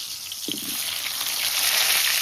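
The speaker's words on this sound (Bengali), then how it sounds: "তেলটা কিন্তু গরম হয়ে গেছে বিরাট। এবার আলু ভাজা দেবে।" Potatoes hit hot oil in a wok and set off a loud, steady hiss of frying that fills the whole stretch without a break.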